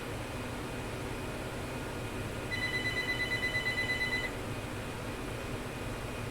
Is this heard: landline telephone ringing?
yes